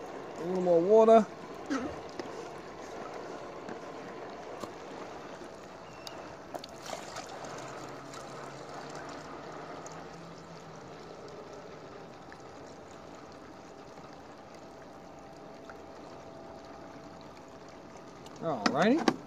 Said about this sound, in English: Add a little more water to it.